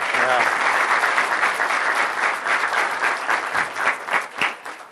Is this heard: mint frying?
no